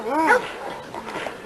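A young hunting dog on a tight chain gives a sharp whimpering yip at close range, followed by softer whines and a little noise.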